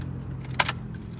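Car keys jangle once, briefly and close, as the ignition key is turned off inside a car, over a low idling hum.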